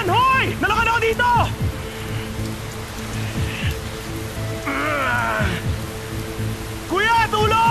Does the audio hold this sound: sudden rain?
yes